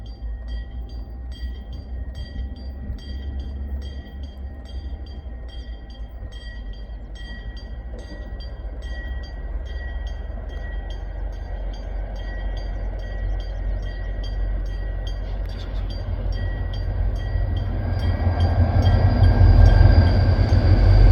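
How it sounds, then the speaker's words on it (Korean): A two-car Mugunghwa train rolling slowly past, its low rumble building steadily louder and nearer toward the end, with faint wheel clatter. "가볍게 스르르 지나가는 두량의 무궁화 열차"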